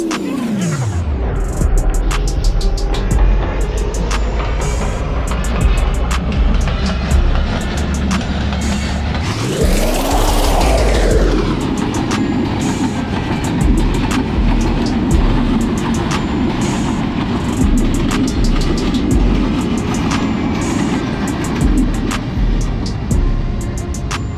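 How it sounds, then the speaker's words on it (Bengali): A train runs past the Hili border crossing, a loud, continuous heavy rumble close by with regular rail clicks and a horn-like tone that rises and falls midway. "ইতিমধ্যে একটি ট্রেনও আসতেছে সো ট্রেনটি দেখুন এটা সম্ভবত চিলাহাটি এক্সপ্রেস"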